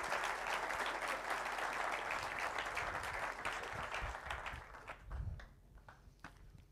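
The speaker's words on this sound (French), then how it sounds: "il est préférable que vous applaudissiez avant" Audience at an improv comedy show applauding loudly in a dense burst for several seconds, then the clapping thins out and fades to a few scattered claps.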